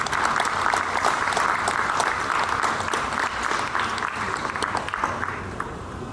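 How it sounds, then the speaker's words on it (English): Audience applause for a glassblower during a museum demonstration, a steady dense round of clapping that lasts several seconds with little talk. "How about a nice round of applause for Michael Beatty?"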